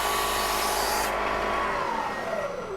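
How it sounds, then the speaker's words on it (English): A drill bit bores through a one-inch piece of cold rolled steel on a Bridgeport mill, giving a loud, continuous grinding rasp with a whining tone that falls in pitch toward the end. "I am drilling all the way through a 1-inch piece of cold rolled"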